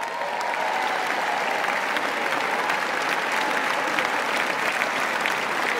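An audience at a stage comedy show claps and cheers for Gaynor Faye, a steady, full round of applause from a large room that holds evenly throughout.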